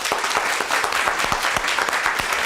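A courtroom TV-show audience gives a round of applause: many hands clapping in a fast, steady patter, moderately loud and unbroken throughout.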